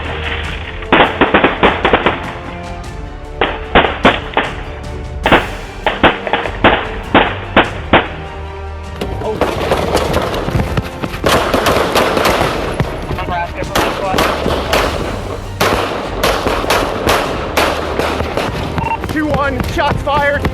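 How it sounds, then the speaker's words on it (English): Gunfire as police officers exchange shots with an armed suspect at night: bursts of sharp, loud cracks come in rapid clusters, then a dense sustained volley, with voices shouting underneath. "The night exploded with gunshots as officers returned fire and closed in."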